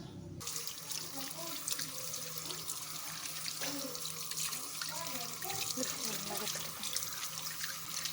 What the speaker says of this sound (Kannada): ಸೊ ಇವಾಗ ನೀಟಾಗಿ ಇದನ್ನು ವಾಶ್ ಮಾಡ್ಕೋಬೇಕು, ತುಂಬ ಮಣ್ಣು ಇರುತ್ತೆ ಹಾಗಾಗಿ.